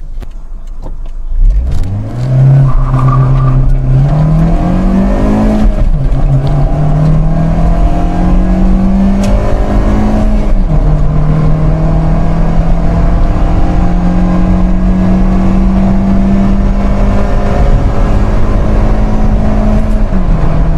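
A car pulls away from a standstill and accelerates hard from 0 to 100 km/h, the engine roaring loudly up through the gears with rising pitch and brief drops at each shift, heard from inside and with no voices.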